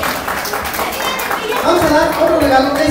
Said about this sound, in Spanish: Fuerte el aplauso también para la niña